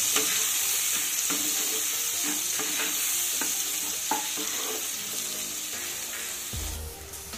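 Eggplant pieces with a little turmeric frying over medium heat in a pan, a steady close sizzle broken by repeated scraping stirs throughout, with a heavier clatter near the end.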